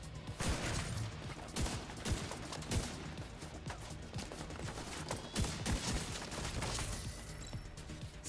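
Video game gunfire from a gun in The Division 2, a string of sharp, loud shots in uneven bursts, some rapid, with brief gaps and mechanical clatter between volleys.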